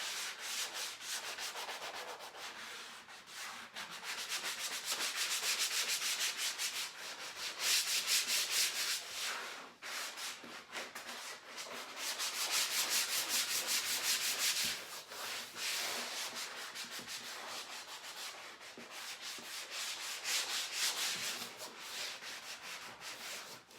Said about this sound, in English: I'm going to give it one more sand